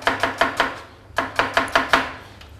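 Onions sliced with a knife on a board, two quick runs of four sharp rhythmic chops separated by a short pause, close and crisp with no talk.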